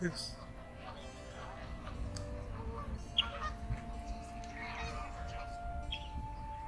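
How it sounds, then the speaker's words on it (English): Geese or similar waterfowl honk at a city park pond, with scattered calls over a low background hum while people talk nearby. "Those are the birds."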